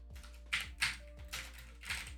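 Keys clatter on a computer keyboard while someone types out code, a quiet run of irregular taps arriving in small bursts with short pauses between them.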